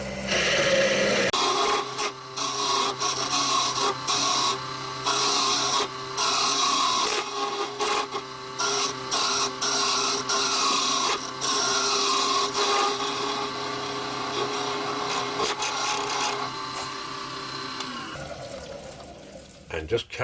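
A woodturning tool cuts into wood spinning on a lathe, worked gently with a wide gap between tool rest and point, giving a steady, close rasping whir that runs almost continuously before cutting off near the end.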